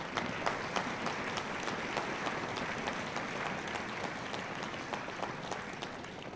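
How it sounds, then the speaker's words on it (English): Students at a school winter concert stomping their feet in a dense, rumbling, rapid patter like applause, sustained and fairly loud in a hall. "Let's foot stomp for the parents and their support."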